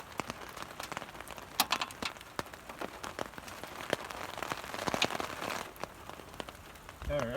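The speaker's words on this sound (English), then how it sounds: "Don't you love working in the rain?" Rain falling outdoors on surfaces during work on an Acura 3.2 TL, a dense patter of sharp drops and ticks throughout, close and fairly loud, with no voices.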